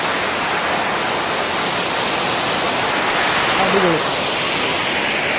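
Thusharagiri waterfall near Calicut roars as a dense, unbroken rush of falling water, loud and close, with a single brief voice exclaiming near the end.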